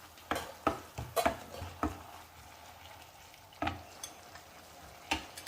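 Carrot kozhukatta mixture stirred in a pan, a quiet, faint scraping and tapping of a spoon in uneven bursts with a soft background hiss, no talking.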